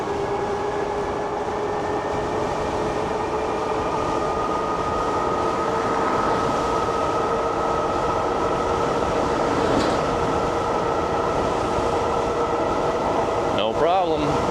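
A Wired Cruiser electric bike at full throttle gives a steady, continuous whine of motor and rolling noise with wind rush, holding an even loud level for the whole stretch.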